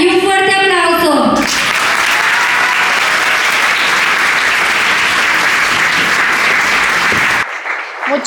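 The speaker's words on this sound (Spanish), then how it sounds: "Muchas gracias por su aplauso." A university congress audience bursts into loud, sustained applause to welcome a speaker, breaking in after a short spoken introduction and holding steady before cutting off abruptly.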